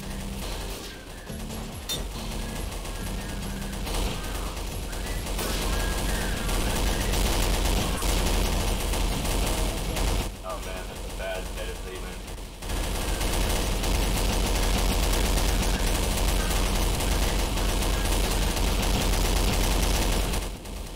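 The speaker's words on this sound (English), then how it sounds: "I am going deaf from the gunfire." Rapid machine gun fire in the game Garry's Mod during a Zombie Survival match, loud and sustained bursts filling nearly the whole stretch with a brief pause in the middle.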